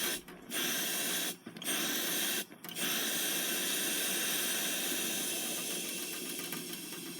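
A British Military #12 stove burner fitted with a silent damper cap, turned down to a low simmer, gives a steady, close breathy roar with a few brief dropouts early on, then holds constant.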